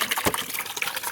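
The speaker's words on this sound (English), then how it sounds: "This little cascading waterfall." A small cascading waterfall in the Anza Borrego desert spills into little rock pools, giving a close, steady splashing rush of water with no talking.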